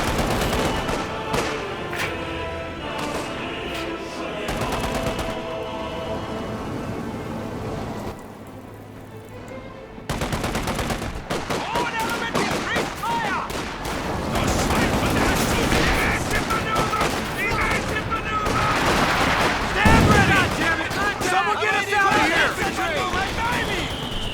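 Rapid gunfire and bursts of machine-gun fire pin down a rifleman squad in the World War II strategy game Company of Heroes 2, with dense crackling shots running continuously under steady commentary.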